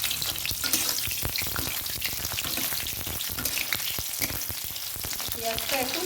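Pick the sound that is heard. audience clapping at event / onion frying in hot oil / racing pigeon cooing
onion frying in hot oil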